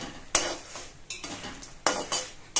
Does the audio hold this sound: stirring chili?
yes